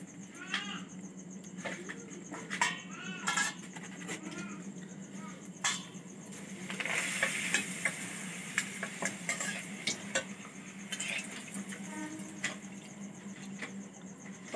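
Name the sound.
papads frying in hot pakora oil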